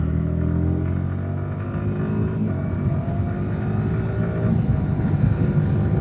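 A 2025 Yamaha R125 motorcycle with a quick shifter accelerates hard in third gear on a road. A dense, loud engine drone with rich layered harmonics runs continuously throughout.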